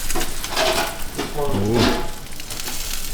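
Food frying in a hot pan under a salamander grill, a steady close sizzle with faint stirring, while a person talks over it.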